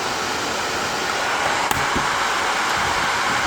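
An AIRSEE GD3 nail dust collector fan runs at its highest, loudest speed, giving a steady, dense airy roar that holds unchanged throughout, with one brief faint tick partway through.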